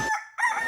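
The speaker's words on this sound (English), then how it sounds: "Is that a rooster?" A rooster crows briefly in a city Chinatown setting, a short, loud, nearby call with a sharp break partway through.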